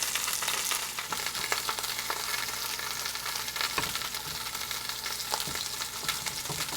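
A loud, busy sizzle of lamb shanks searing in a hot pan, constant crackling and spitting with occasional sharper pops and scraping.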